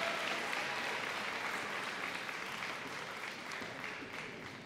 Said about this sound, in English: Let's give one big more round of applause for our first ever Seal of Biliteracy students.